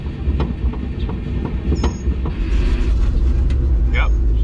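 A 55-year-old farm truck engine, brought to life with a battery jumper, rumbles steadily and close by, its low drone growing a little louder partway through.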